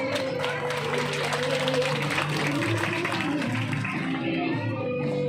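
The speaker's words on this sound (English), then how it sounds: "Kindly clap." Audience applause at a school annual day prize distribution, a steady dense wash of clapping from a crowd that fills the whole stretch evenly without pause.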